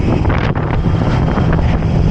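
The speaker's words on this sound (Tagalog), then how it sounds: "Lakas ng hangin." Loud, blustery wind buffets the microphone in a continuous roar, gusting unevenly with no voices.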